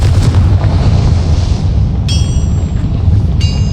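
Spell explosions from Bombarda and Confringo in the video game Hogwarts Legacy, a loud, continuous roar of heavy booms and rumbling blasts with no pause, joined by brief bright magical chimes near the end.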